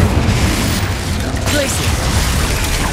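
Booming blasts from the Confringo and Incendio spells in Hogwarts Legacy, loud and rumbling, with fiery bursts over continuous game noise and a voice mixed in.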